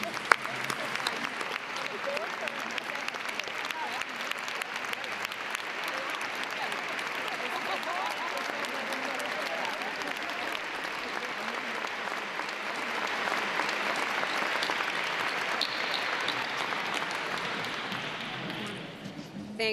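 An audience applauds steadily and loudly for company representatives being honored at an awards presentation, a dense sustained wash of clapping that swells slightly near the end before stopping.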